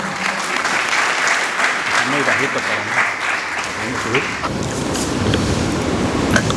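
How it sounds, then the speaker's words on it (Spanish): Audience applause in a lecture hall greets a presenter, dense steady clapping with murmuring voices underneath, the texture shifting partway through as the crowd settles. "un aplauso para él"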